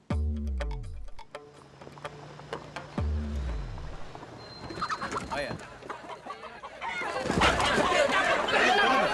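Chicken or rooster clucking in a short burst at the start and again around the three-second mark, followed by busy scuffling and rustling noises.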